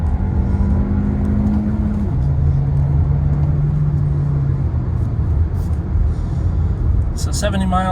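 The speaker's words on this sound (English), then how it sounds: "The road noise is really quiet." Steady road and tire rumble inside a 2020 VW Jetta R-Line with the 1.4T engine and six-speed manual, cruising at 70 mph, carries a low engine drone that shifts pitch partway through, with a brief higher sound at the end.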